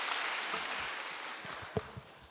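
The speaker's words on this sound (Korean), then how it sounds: "너무 수고하셨다고 우리가 박수로 감사합니다" Soft, steady applause from a church congregation at a Wednesday worship service, a faint continuous wash of clapping with a couple of low thumps near the end.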